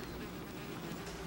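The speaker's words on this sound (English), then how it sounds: "you hear that buzzing? It's a whole swarm of bees." Faint steady buzzing of a swarm of bees outdoors, a continuous low drone holding evenly through the short stretch with no voices over it.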